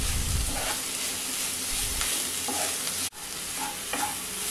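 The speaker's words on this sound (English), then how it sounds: "Half teaspoon of turmeric powder and a little salt. Mix well and fry this for 1 minute." Eggs seasoned with turmeric powder and salt fry and get stirred in a pan, giving a steady soft sizzle with occasional scraping stirs and a brief dropout near the end, no voices.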